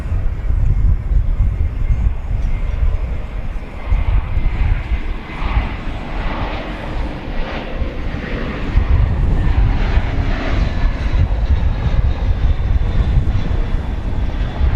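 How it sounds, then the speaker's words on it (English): Volaris Airbus A320 arriving from Mexico City and landing at DFW Airport: a steady, loud jet engine roar that holds throughout with broadband rumble and no gaps. "Volaris coming in from Mexico City. It's an Airbus A320"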